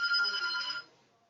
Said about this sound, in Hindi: जरा फोन बज रहा है, मैं फोन सुन लूं।